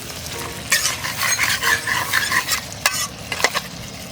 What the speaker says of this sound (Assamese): আমাৰ মাংসখিনি বঢ়িয়াকৈ ভাজা হৈ গ'ল